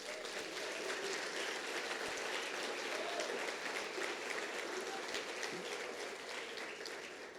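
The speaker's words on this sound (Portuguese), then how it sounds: "Você pode aplaudir Jesus?" Congregation applauding in a church during a family worship service, a steady wash of many hands clapping that holds evenly throughout and tapers slightly at the end, with no talking over it.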